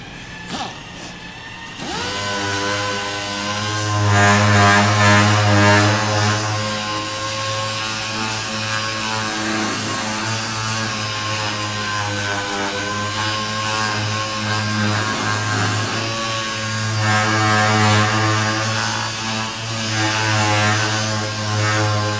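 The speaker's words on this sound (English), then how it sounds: "now that I got that sanded with 500, I'm going to switch to 800" A power sander works over car paint with 500 grit sandpaper, a loud, steady whirring drone that runs continuously with slight swells in pitch and pressure, and no voices.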